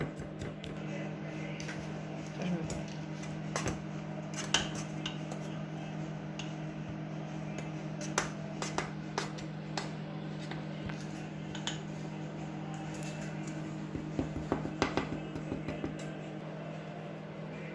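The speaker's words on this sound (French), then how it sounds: "Donc vous pouvez utiliser une cuillère, un pilon, enfin voilà, vous écrasez bien." Speculoos biscuit crumbs crushed and spread across a dish with a spoon for a banana cheesecake base, scattered soft taps, scrapes and crunches over a low steady hum.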